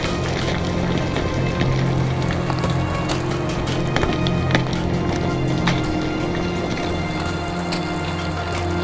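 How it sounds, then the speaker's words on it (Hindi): Steady rain patters on a hard surface with scattered sharper drops on a mountain road in Pakistan, a constant wash of wind-like noise behind it, no voices. "यहाँ हवा चल रही है और बारिश भी हो रही है।"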